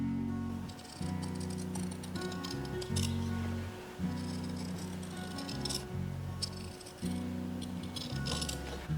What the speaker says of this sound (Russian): У меня получилась новая разметка, по ней я и буду вырезать.